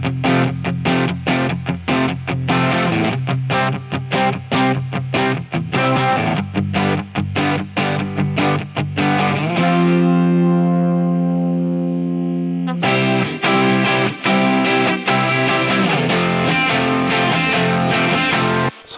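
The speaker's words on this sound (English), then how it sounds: "extra guitars come in with distortion, and the whole thing just pops" Layered distorted electric guitars with short reverb drive a rock arrangement, moving from a chopped, rhythmic verse through a brief sustained swell into a wider, louder chorus, all instrumental and up front.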